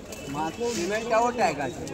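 Pigeons at a Kolkata pigeon market coo in a close, rolling warble, several soft throaty calls overlapping with a voice talking nearby.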